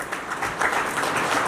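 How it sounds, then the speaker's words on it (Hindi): Audience clapping at a foundation day event, a brief dense patter of many hands that swells slightly and holds steady throughout. "आप लोग उसे तालियों की गड़गड़ाहट से उसका स्वागत करें"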